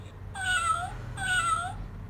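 Two drawn-out kitten meows from a talking animal sound book, played back small and near over a steady low hum, each cry rising then falling.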